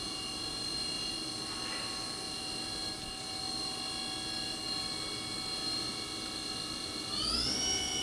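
Steady high whine of a 2007 Tsugami BH38SY multi-axis CNC Swiss lathe spindle held at 3000 RPM, with many sustained tonal lines over a broadband machine-shop hum, rising in pitch near the end as the speed climbs.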